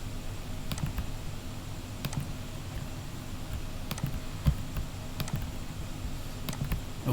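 Keys click on a computer keyboard in short, quiet bursts of typing, separated by brief pauses, with no one speaking.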